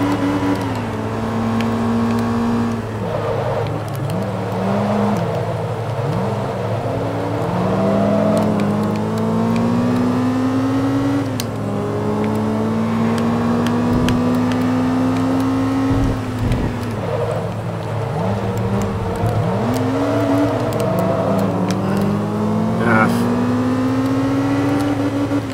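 Engine of a 2003 Toyota APR Performance Celica GTS in Forza 2, a front-engine, front-wheel-drive race car, revving hard and steadily through repeated gear shifts, with pitch climbing and dropping over a constant loud drone.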